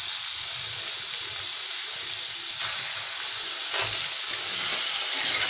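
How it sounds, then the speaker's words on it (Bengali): Prawns marinated in salt and turmeric fry in a wok with a steady, close hiss and sizzle. Faint scraping touches come and go, with no talk. "এখন আমি কড়াতে চিংড়ি মাছটা দিয়ে দেব।"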